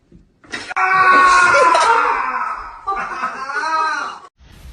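A cat meows loudly and close by: one long, drawn-out yowl that bends in pitch, then a shorter second cry, with a brief quiet gap before a faint trailing sound.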